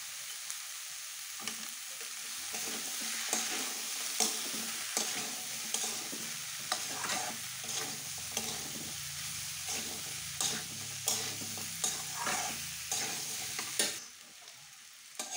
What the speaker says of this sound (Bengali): ভালো করে নেড়ে চেড়ে দিয়ে দিচ্ছি লবণ